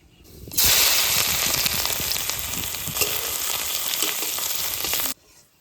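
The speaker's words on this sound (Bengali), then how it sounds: "রসুনগুলো ভালো করে ভেজে নিয়েছি" Dried chili, black cumin, ginger paste and garlic hit hot oil with a sudden loud, dense sizzle that crackles steadily for several seconds, then cuts off abruptly.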